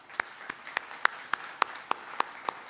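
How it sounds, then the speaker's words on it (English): A school anniversary felicitation audience gives a sparse, slow round of applause, about ten distinct claps spaced evenly and sounding faint and somewhat distant. "we'll all give them a big round of applause"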